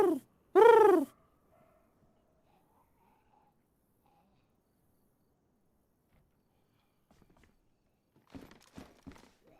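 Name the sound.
person imitating pigeon cooing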